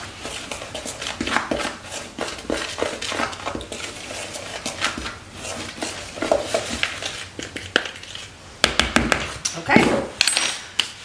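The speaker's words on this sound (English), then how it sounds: "I'm just going to stir this together" Spoon scraping and clinking against a bowl as ginger cookie ingredients are stirred together, a steady run of knocks and scrapes with sharper clatters near the end, under a nearby voice.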